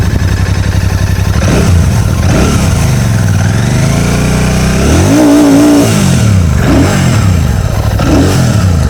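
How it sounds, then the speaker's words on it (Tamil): A Royal Enfield Classic 650 motorcycle revs through its exhaust, the engine note rising and falling in several loud, close throttle blips over a steady idle, with no voices. "அந்த இதோட எக்ஸாஸ்ட் நோட் என்னென்னு பார்த்துடலாம் வாங்க"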